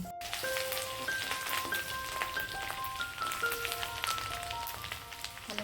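Chicken pieces for dry chilli chicken fry in hot oil, a dense, steady crackling sizzle with sharp pops throughout, close and fairly loud.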